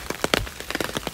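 Rain falls in Kiyosumi Garden on a rainy day, with close, irregular droplet taps and patters striking a surface in a quick, uneven rhythm.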